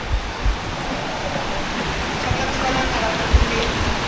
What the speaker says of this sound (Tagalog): Lakas ng agos ah.